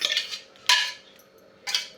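A steel vessel handled in a kitchen gives three sharp metallic clanks and scrapes close by, spaced about a second apart, with no talk.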